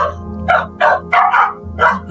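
A neighbour's dog barks outside near a trash pile, four or five sharp, loud barks in an uneven rhythm over a low steady hum, with no talking.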